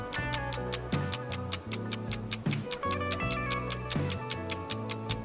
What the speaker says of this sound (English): The clock is ticking.